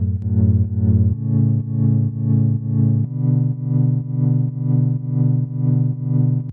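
A distorted, buzzy progressive house bass synth, sidechained to the kick, plays sustained notes that pump rhythmically in a steady pulse, ducking and swelling on each beat, with no voices.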